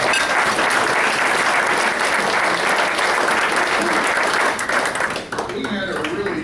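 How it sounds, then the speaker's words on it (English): A luncheon crowd applauds, loud steady clapping filling the room before fading as a speaker starts talking. "Let's give them a round of applause."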